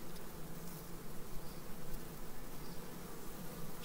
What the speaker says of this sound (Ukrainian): бачите, скільки бджоли